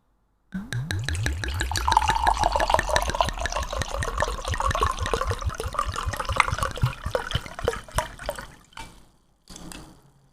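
Casillero del Diablo Cabernet Sauvignon, a Chilean red, poured quickly from the bottle into a glass, a steady close gurgling stream lasting several seconds before tapering off, then a brief final trickle.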